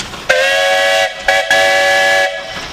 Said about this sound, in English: I know we've got a big whistle on the big engine